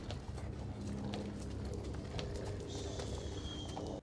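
Horse hooves clip-clop steadily on a road on Büyükada island in Istanbul, mixed with cooing pigeons and a continuous outdoor background.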